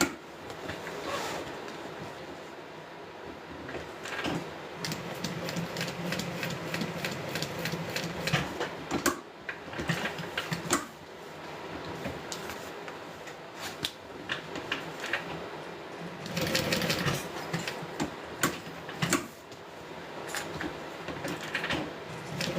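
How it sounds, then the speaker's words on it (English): A sewing machine stitches a Becca Bag in quiet bursts of rapid mechanical whirring and clatter, with short pauses between runs. "you can just watch me sew"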